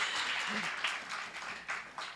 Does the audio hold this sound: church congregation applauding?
yes